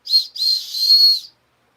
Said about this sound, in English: It's a whistle? I don't know. Is it a dog whistle or I don't know.